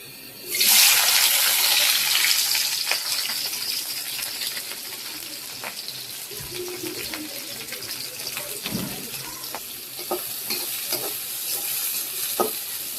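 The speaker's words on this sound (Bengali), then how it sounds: "তো এখন করলা ভাজি বসাই দিব।" Bitter gourd hits a hot pan with a sudden loud hiss that settles into a steady frying sizzle, with scattered spatula scrapes and taps over about thirteen seconds and no talk.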